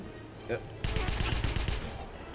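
Rapid bursts of automatic gunfire during a firefight in Wolfenstein (2009), a steady rattling volley of about a second with a brief sound just before it.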